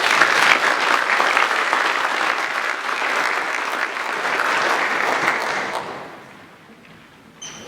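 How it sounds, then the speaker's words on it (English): A forum audience gives sustained applause for a Ngāti Toa chief executive about to speak at a business growth event, steady and full for about six seconds before fading to quiet. "Give him a round of applause."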